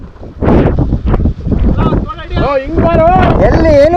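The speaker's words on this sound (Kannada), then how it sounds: "ಬೇಜಾನ್ ಗಾಳಿ" Strong wind gusts across a trek trail in the Kudremukh hills, a loud, steady rumbling roar buffeting the microphone while people talk over it.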